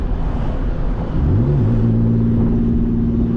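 Manual Lexus SC300 engine rumbling as the driver downshifts, the revs swooping up in a blip and then holding a steady higher drone, close and loud inside the car.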